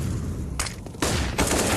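Grenade blasts and heavy gunfire in a CS:GO match, loud and dense, with several crashing bursts in quick succession over a constant layer of battle noise.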